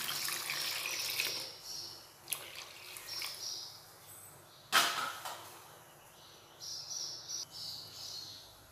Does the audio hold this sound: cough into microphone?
no